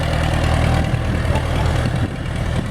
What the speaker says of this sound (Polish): O, ciągnik wyjechał.